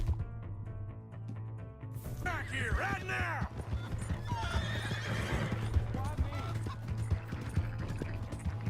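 A horse whinnies loudly in the Red Dead Redemption 2 video game, with steady hoofbeats clopping underneath and a low constant hum, while voices talk over the scene.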